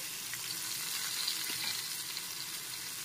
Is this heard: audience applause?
no